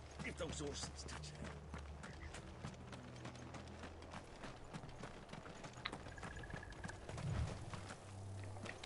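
Horses gallop in the Final Fantasy 16 video game, a steady rapid clip-clop of hooves running throughout, with a brief whinny, layered under game music and character voices.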